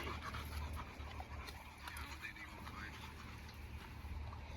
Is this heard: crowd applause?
no